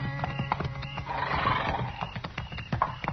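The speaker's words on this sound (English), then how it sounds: "This man's got horses." Horses at a hunters' camp on the open range neigh and whinny close by, with scattered hoof clip-clops and a steady rumble of movement.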